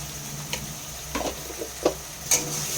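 Spices with cumin, chili and turmeric powder, tomato and salt frying in a pan for paneer masala, a low steady sizzle broken by a few soft scraping stirs of a spoon.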